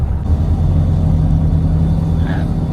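Ten-wheel cargo trucks on a road between Thailand and Laos pass close by as a loud, continuous low engine rumble that holds steady throughout.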